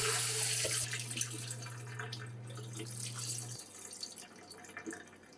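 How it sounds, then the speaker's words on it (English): Pork ribs rinsed under cold running tap water in a sink, a steady close splashing stream that runs for several seconds, then stops and leaves a few lighter drips and wet handling sounds. "just rinse it with some cold water"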